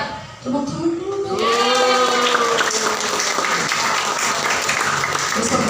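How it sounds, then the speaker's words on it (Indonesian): Applause from an audience at a therapy session in Pamulang bursts in after a brief voice and carries on as dense, steady clapping for about four seconds. "Tepuk tangan dulu"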